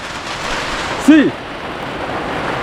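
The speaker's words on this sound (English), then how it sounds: "It's raining guys, it's raining." Steady rain falls as a broad, even hiss throughout, with one short rising-and-falling tonal call cutting briefly through the wash of water partway in.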